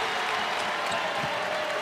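A crowd at a Gonzaga vs Portland women's college basketball game breaks into steady, dense applause and cheering after a made basket, filling the arena evenly for under two seconds with no voices standing out.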